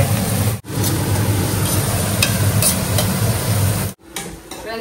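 Onions sautéing in oil with fennel seeds for crab curry, a loud, dense sizzle that cuts out briefly twice, the last break followed by a quieter stretch of frying.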